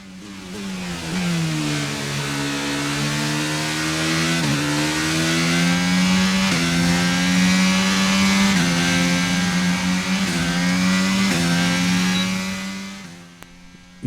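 A Formula 1 car engine in the F1 22 racing game revs loudly and steadily, its pitch rising and dipping through gear changes before cutting off near the end, with no talk over it.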